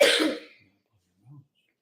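A single short, harsh cough, close and fairly loud, followed by silence and a faint low throat sound.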